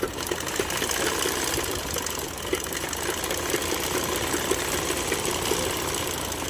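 A sewing machine stitching a princess-cut blouse runs at a steady, even whir with a fast rhythmic knock, close and constant throughout, with no talk over it.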